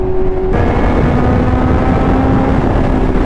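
Steady, loud engine drone of a Kawasaki Z1000 motorcycle cruising on the South Luzon Expressway, with a sustained tone shifting pitch under constant wind rush.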